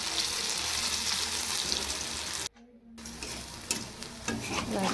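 Gram flour pakoras frying in oil in a pan, a dense crackling sizzle that cuts out briefly midway when a piece is turned, then resumes with scattered pops and scrapes.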